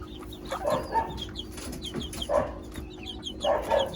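Chicks and hens in a backyard coop cluck and cheep, with soft low clucks in short bursts and many thin high peeps scattered throughout at close range.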